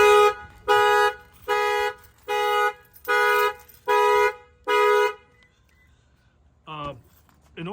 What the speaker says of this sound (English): I'm going to go ahead and bang in this window.